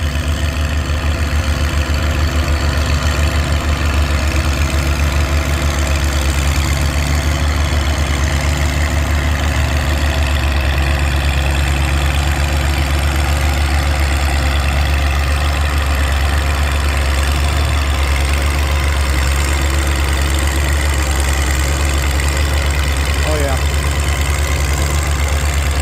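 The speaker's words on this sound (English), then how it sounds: "This is always a really tough pulling tractor." An old Oliver antique pulling tractor, an antique turned farm stock, idles with a steady, loud low rumble and a continuous throb for the whole stretch at an outdoor tractor pull.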